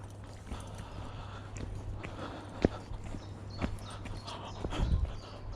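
Hooves of horses carrying two riders clip-clop in a few isolated, fairly close strikes over a steady outdoor hum, with no talk.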